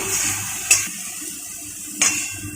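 Utensils clink twice against a pan as fried eggplant is lifted out, two brief metallic taps over a soft sizzling, hissing background.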